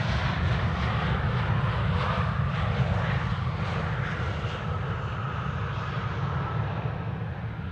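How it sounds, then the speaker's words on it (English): A KLM Embraer 190 jet lands at Amsterdam Schiphol airport, its engines a steady, loud roar over a deep rumble that fades slightly toward the end, with no voices. "KLM Flight 1754 arriving from Hamburg. Embraer 190."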